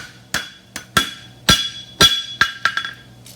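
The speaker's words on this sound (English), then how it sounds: "I'm just going to pull the hammer toward me and not hit the front, just so that I can get a nice straight up and down ledge." A hammer strikes a mushroom trotter horseshoe on steel, eight sharp ringing metallic blows in an uneven rhythm, close and clear with a bright clinking ring after each hit.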